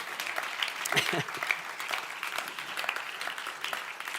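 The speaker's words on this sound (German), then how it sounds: "wir geben doch allen Müttern einen herzlichen Applaus" A crowd claps and applauds steadily, a dense patter of hand claps that holds at an even level throughout, with a brief voice early on.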